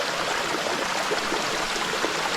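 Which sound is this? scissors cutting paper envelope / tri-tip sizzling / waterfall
waterfall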